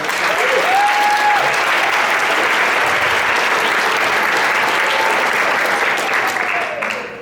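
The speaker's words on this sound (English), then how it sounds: "I just wanted to give a round of applause to Jill, Joe, Mary Ellen, and Bill." Sustained applause from a large crowd at a wedding, loud and steady throughout, tapering slightly at the very end.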